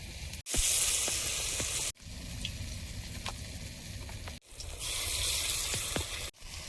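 Pumpkin flower fritters fry in white oil with a steady, close crackling sizzle, broken by a few brief pauses as they are moved, and no talking.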